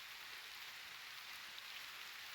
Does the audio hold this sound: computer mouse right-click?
no